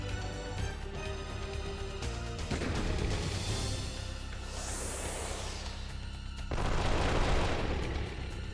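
Gatling gun fire in the video game Wild Arms 3, rapid bursts of shots layered over game music, swelling louder toward the end with no voices.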